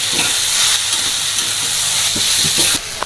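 A ground paste of green chili, coconut, ginger and garlic fries in a pan for red lentil pulao, giving a loud, close, continuous sizzle and hiss with a few light stirring knocks.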